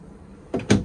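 A storage drawer under the refrigerator of a 2025 Palomino Real-Lite HS-2110 truck camper slides open, giving two quick close knocks after a quiet moment.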